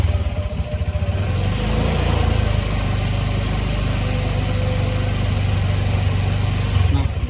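Motorcycle engine held at high revs on the throttle during a maintenance test, a loud steady buzzing drone that climbs briefly at the start and holds near-constant for several seconds before dropping at the end.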